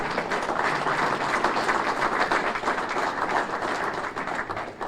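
Audience applause at a mayor's State of the City address in Waterville, a dense, steady wash of many hands clapping from a seated crowd, sustained and fairly loud for the whole stretch without a break.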